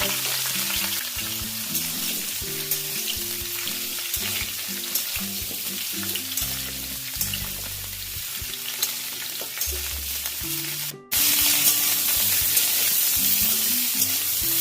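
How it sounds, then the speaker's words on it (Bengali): Steady sizzling from cauliflower frying in a hot pan, with faint stirring scrapes and background music throughout; a brief pause near the end before the sizzle resumes louder. "ফুলকপিগুলো ভেজে নেব"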